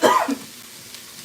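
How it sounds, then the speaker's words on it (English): A single throaty cough, close and fairly loud, breaks out at the start from a person cooking stew, then fades into quiet room tone with a faint click near the end. "I'm going to cough real quick."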